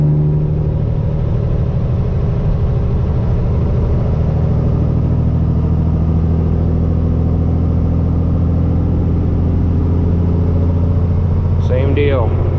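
A custom Peterbilt truck with straight pipes and an 18-speed transmission pulls loudly after a gear change, its deep, steady engine rumble filling the cab as it accelerates.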